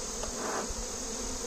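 Honeybees buzzing in a dense, steady drone as they are shaken from brood frames, close and continuous for a brief moment.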